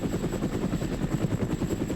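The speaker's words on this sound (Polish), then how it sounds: "tam mamy jeszcze jeden śmigłowiec, który sobie lata na patrolu" A patrolling military helicopter in the video game ARMA: Red Hammer gives a continuous, rhythmic rotor thump over a broad engine roar, steady and fairly loud, with no talking.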